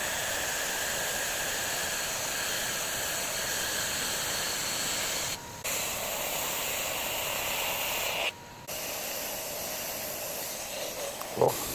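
Steady, bright abrasive hiss while the blade of a wooden axe is beveled, continuous and fairly loud, with two brief dips where the contact lifts off the wood.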